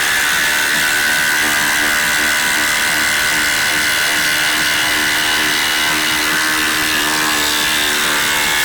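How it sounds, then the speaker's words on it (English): A Milwaukee M18 FUEL Gen3 cordless impact wrench on high whirs and chatters loudly and continuously, driving a 1/2-inch lag screw without a pilot hole through a 2x4 and treated 4x4, close up and without pause. "let's drive a 1/2 inch lag, no pilot hole drill down through a 2x4 and a treated 4x4 on high"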